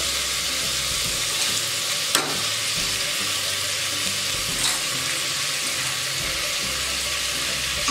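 Steady sizzle of vegetables and tomato sautéing in a pan for sambar rice, with a couple of brief scrapes of stirring.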